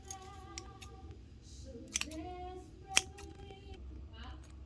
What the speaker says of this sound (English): now it's time to cut it